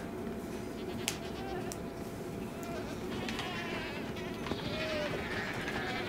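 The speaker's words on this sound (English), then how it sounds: "Goats are everywhere." Goats bleating in Minecraft during a Tower of Death goat scene, small faint cries scattered over a steady buzzing game ambience with no talk.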